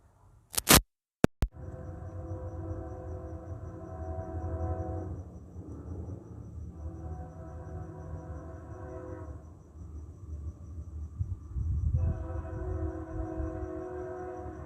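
A train rumbles past at 7:20 p.m., a steady mid-distance drone with tonal, horn-like bands that swell, dip and return, after a couple of brief sharp clicks at the start.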